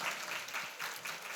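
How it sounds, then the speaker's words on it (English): An audience claps and cheers at a women in business breakfast held by a chamber of commerce, producing dense, steady applause that fills the room. "Yeah, we're gonna cheer for every single one of these."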